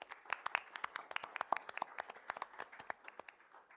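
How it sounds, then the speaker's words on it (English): Small audience at a school district board presentation clapping, a sparse burst of individual hand claps with an uneven rhythm, fairly close and modest in volume, without voices. "So I think that deserves a round of applause."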